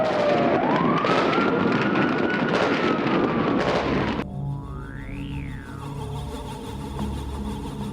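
During the 1985 siege of the Palace of Justice, sharp bursts of gunfire crack repeatedly over a wailing siren for about four seconds, then the scene drops to a quieter, tonal background.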